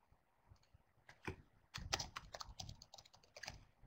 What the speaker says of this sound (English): I will just type in probability